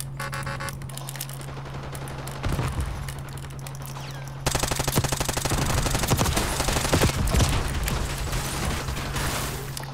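Rapid automatic gunfire in Call of Duty Black Ops 6, starting sparse and then bursting into a dense, loud, sustained stream of shots over a steady low game hum.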